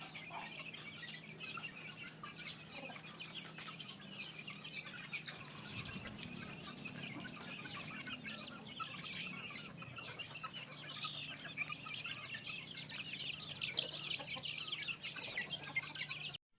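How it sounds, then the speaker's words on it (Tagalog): Game-farm cockerels clucking near a multipurpose pen under a shady tree, soft intermittent clucks and calls over a steady outdoor background, fairly distant and faint. "Yung mga cockerel sa ilalpasan namin, dito lagi nakatambay pagkatapos nilang tumuka sa may tabi ng multipurpose pen."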